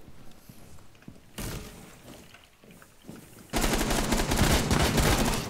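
Gunfire in the Rainbow Six Siege shooter game: a short burst, a lull, then a loud sustained automatic volley of rapid shots filling the last couple of seconds.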